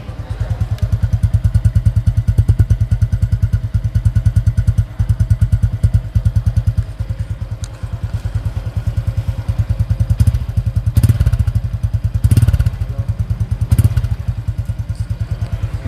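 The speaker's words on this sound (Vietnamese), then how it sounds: "mình nghe tiếng bô tiếng máy luôn đi các bạn." A 2024 Honda Dream NCX motorcycle idles close by, its engine and exhaust putting out a steady, even putter that runs without a break for the whole stretch, with no talking over it.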